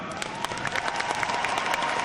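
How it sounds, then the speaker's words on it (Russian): Applause from an audience at a children's holiday event, a dense, steady patter of many hands clapping throughout, moderately loud and even. "Аплодисменты вам."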